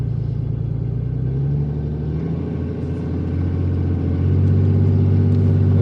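Classic car driving through Roswell, New Mexico, with a trailer in tow, a loud steady engine rumble heard close from inside, swelling slightly toward the end.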